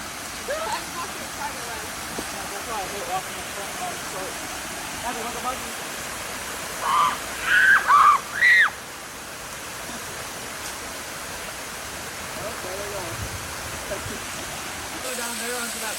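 A waterfall roars as a steady, broad rush of falling water throughout, with a few brief voices talking faintly over it.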